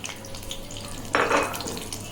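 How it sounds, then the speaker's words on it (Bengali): Spice paste hits hot oil for mutton paya, a sudden bright hiss and sizzle that swells for a moment, then settles into a steady, softer crackle close by. "একটু তেলে ভাজা হবে।"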